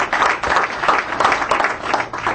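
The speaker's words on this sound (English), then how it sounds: "So let's give them a round of applause." Audience applause at a governing board meeting, a steady dense clapping that holds at an even, loud level through its full length, with no voices over it.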